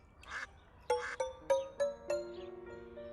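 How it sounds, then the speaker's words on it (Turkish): A handful of quacks come in quick succession, about five short calls spaced evenly, fairly faint against a quiet background. "Hadi Bali ördekleri beslemek ister misin?"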